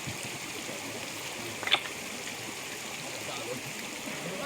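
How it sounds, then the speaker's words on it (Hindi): Water flowing at Sukha Jhora waterfall beside a Shiv temple in Chanderi, a close continuous stream-like rush and trickle with one short splashy burst partway through. "तो अब हम झरने का जल ग्रहण करते हैं"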